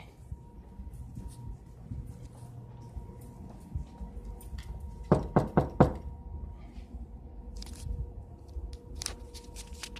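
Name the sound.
knocking twice on a security office door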